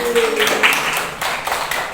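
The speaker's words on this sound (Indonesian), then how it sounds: "Ya, tepuk tangan." Schoolchildren clap their hands together in a classroom during a coding lesson, a dense, steady patter of many claps lasting a couple of seconds, with a voice briefly present at the start.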